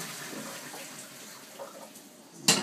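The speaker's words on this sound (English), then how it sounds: "I'm going to drain the pasta just like we do any other pasta" Cooked pasta shells are drained as water pours out in a steady rushing stream, ending with a brief sharp splash.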